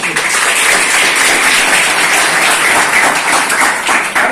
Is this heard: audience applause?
yes